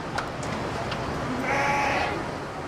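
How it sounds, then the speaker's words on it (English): Sheep bleat out on rich bluegrass pasture, a single drawn-out call rising over steady open-air background noise, moderately distant and fairly faint. "Sheep and lambs grow fat on the rich blue grass"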